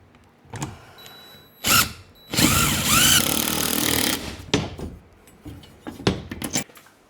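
A half-inch impact driver drives mounting screws for a FlexiMounts 4x8 overhead garage storage rack: a short loud burst, then a longer hammering run of about two seconds, with scattered clicks and handling knocks afterward.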